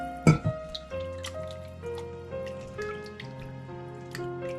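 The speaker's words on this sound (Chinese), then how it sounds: "然后倒入1盆清水，洗净肉里边的血水和油脂" Water splashes and drips in a basin as raw pork shreds are washed, with a couple of sharp splashes at the start and then soft, scattered drips over a steady tonal background.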